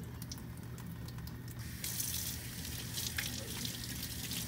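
Tap water runs over a paint brush to rinse soap from its bristles before ceramic glazing, a soft steady splashing close by that grows slightly louder partway through, with no talk.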